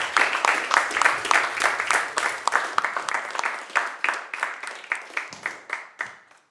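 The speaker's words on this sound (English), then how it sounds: "Keep clapping" An audience at a livestreamed pain-education event claps steadily, a dense burst of many hands that thins out into fewer, more separate claps and fades toward the end.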